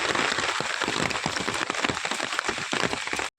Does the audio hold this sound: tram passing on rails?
no